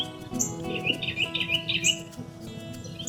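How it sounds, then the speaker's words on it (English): Birds chirp outdoors on a morning, with bright, repeated tweets and short calls close by, rising and falling in quick bursts over a low background hum. "The birds are chirping."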